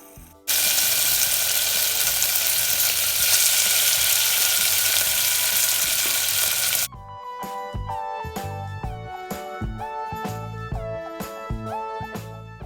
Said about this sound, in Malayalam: അപ്പോൾ നമ്മൾ നേരത്തെ മാരിനേറ്റ് ചെയ്ത് വെച്ചിട്ടുള്ള ചിക്കൻ്റെ പീസസ് ഇതിലേക്ക് ഇട്ടിട്ട് അതൊന്ന് പൊരിച്ചെടുക്കുക